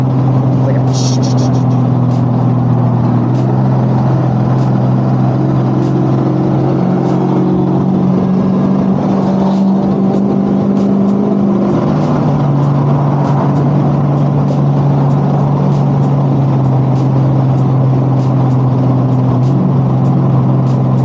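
A turbocharged Dodge SRT8 Challenger with exhaust valves runs on a neighborhood street. Its loud, continuous engine drone rises and drops in pitch as the revs shift, and it stays close throughout.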